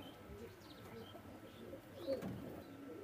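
Pakistani bloodline Teddy pigeons give soft, low coos close by, faint under a quiet room hum, with a couple of brief chirps and a slight rustle.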